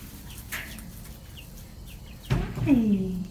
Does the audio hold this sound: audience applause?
no